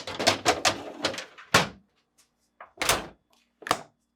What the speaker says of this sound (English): Finally, reinstall the drawers by aligning and pushing back into place.